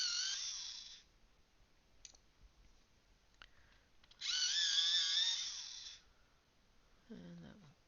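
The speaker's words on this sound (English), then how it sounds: "So I'm going to sharpen up the flirt. Make sure that these are all nice and sharpened." A Tris Vibes coloured pencil is ground in a sharpener, two bursts of close, bright scraping lasting about a second each, with a short quieter rasp in between.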